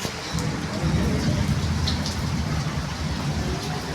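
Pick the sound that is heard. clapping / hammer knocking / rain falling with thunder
rain falling with thunder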